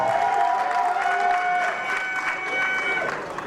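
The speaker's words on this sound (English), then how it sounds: "A round of applause for Ncole." Audience applause at a pageant, a dense continuous patter of clapping from a crowd with some cheering mixed in, steady and fairly loud, with a voice audible over it.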